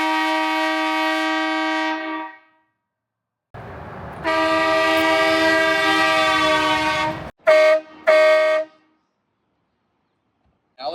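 A train-style aftermarket air horn fitted to a Rivian R1S blasts loud and close: a long rich chord, a pause, another long blast, then two short sharp toots.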